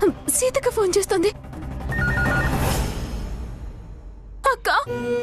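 Telephone ringing in a Telugu TV serial scene, a loud electronic ringtone of rapid repeated trills at the start and again near the end, with voices and a long swelling music tone between.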